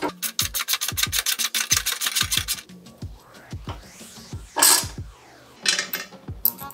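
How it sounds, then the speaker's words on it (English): Bolts and brackets being removed from a Harley-Davidson Dyna fender: a ratchet clicks in quick repeated runs, with metallic scraping and a brief loud rasp in the middle, close up. "I'm pulling out these brackets"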